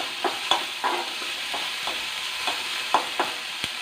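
Chopped onions sautéing in a pan, with stirring scrapes and soft crackles at irregular intervals over a steady low sizzle, close by and fairly quiet.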